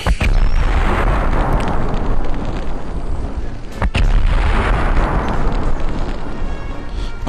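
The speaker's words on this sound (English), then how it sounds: "I like to blow up the little crates just to make an explosion" Crates blown up in the Medal of Honor video game produce a loud, sustained explosive roar lasting several seconds, with a sharp burst near the middle and heavy low rumble throughout, heard alone without talk.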